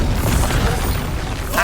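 An Expulso spell explosion in the video game Hogwarts Legacy: a loud, dense, rumbling blast that stays heavy and unbroken for under two seconds, with a brief brighter burst at the end.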